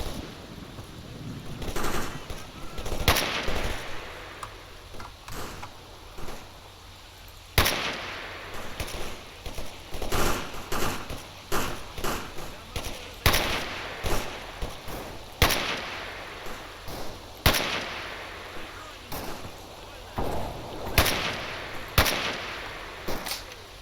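Rapid bursts of AK rifle fire in the video game STALKER Anomaly, loud and close, with short volleys and single shots repeating irregularly throughout.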